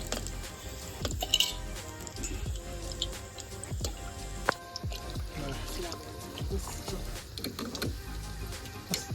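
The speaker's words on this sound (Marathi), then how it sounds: "जे आपलं वाटण होतं त्यामध्ये पाणी टाकून घेतलंय" Water is poured into a ground spice paste while fish curry is made on a rooftop wood-fired stove, with wet dripping, squishing and splashing sounds coming in irregular bursts close by.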